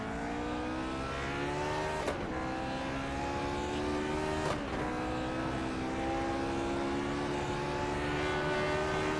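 A Lotus 49 racing car engine at full throttle around the Mid-Ohio course in a VR racing game, a steady, loud, high-revving drone with two brief shift-like breaks.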